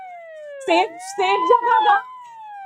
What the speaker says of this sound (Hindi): सब लोगों के लिए तो वो एक सायरन की आवाज थी ना